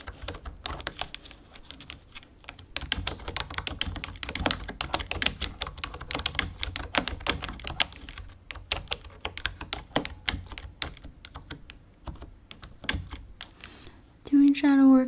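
Long fingernails tap quickly across a thick-keyed orange computer keyboard, a dense, steady run of close clicks and clacks that thins out near the end before a short vocal sound.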